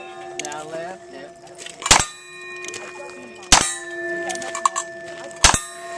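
At a cowboy action shooting stage, three shotgun blasts ring out at irregular intervals, each followed by a bright, sustained metallic clang from struck steel targets, with a voice speaking faintly in between.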